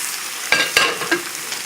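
Veal rack pieces go back into a hot pan of juices, giving a few short sizzling bursts and stirring scrapes against a soft background hiss.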